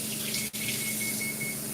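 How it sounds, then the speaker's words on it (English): Tap water runs steadily into an opened milk container to rinse it out, a continuous close hiss of flowing water at a kitchen sink. "We're going in with this milk that's opened. We're gonna rinse it out"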